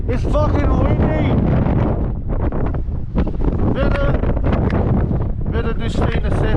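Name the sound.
strong wind blowing into microphone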